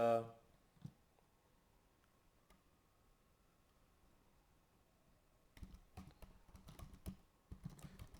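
Typing on a computer keyboard sounds as a quick, close run of soft clicky keystrokes after a quiet pause, with a brief knock at the start.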